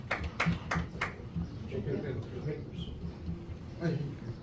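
Scattered audience claps break out at a city council emergency meeting in Hamtramck, Michigan: a few sharp handclaps in the first second, then murmuring voices and room noise.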